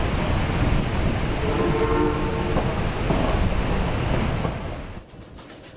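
A loud, steady rumble of a steam train rolling along the tracks beside the Animas River, with a faint horn-like tone partway through before the noise drops away.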